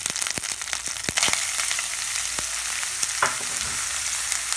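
Onions crackle and sizzle steadily in hot oil in a pan, frying toward golden brown for paneer bhurji, with sharp pops and utensil clicks scattered through a dense, close frying hiss.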